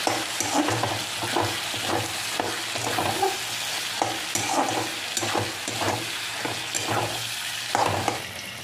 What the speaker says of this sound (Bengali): এটাকে কিন্তু ভালোভাবে এইভাবে কষে নিতে হবে।